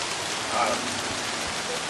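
Steady rain falls outdoors on a gloomy day, a dense, even hiss of drops that fills the whole stretch. It sounds close and fairly loud, with no talking over it.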